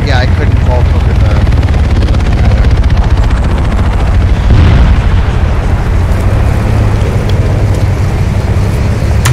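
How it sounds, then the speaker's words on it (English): In a military shooter game, a helicopter is struck by a missile: loud rotor thudding runs throughout, with a burst of explosion around the middle, under radio-style voices. "Someone just swag that helicopter with a missile."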